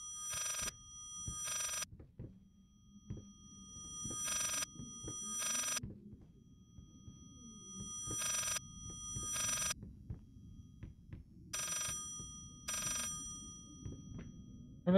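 An old-style telephone bell in the horror game Layers of Fear rings in repeated paired bursts, a steady ring-ring pattern with pauses, over low ambient rumble and footsteps.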